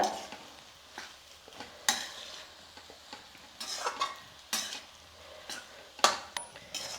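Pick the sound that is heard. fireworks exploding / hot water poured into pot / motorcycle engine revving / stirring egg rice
stirring egg rice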